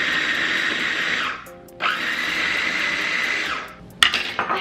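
Electric chopper whirring through onions and cilantro in two long loud bursts with a short pause between, then rattling clatter at the end.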